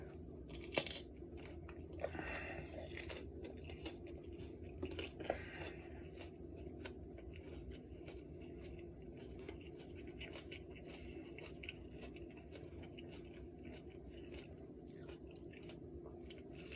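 Someone chewing two habanero peppers, with soft wet mouth sounds and faint crunches close to the mic, quiet and steady over a low background hum, a few sharper bites near the start.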